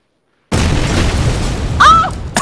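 A grenade blowing up in PUBG, one sudden loud close boom after a moment of silence, trailing into a rumbling decay with a brief squeaky tone near the end.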